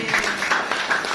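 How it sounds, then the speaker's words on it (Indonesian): Classroom applause from students at the close of a teacher's lesson, a dense, steady patter of many hands clapping together for about a second. "Tepuk tangan untuk kita."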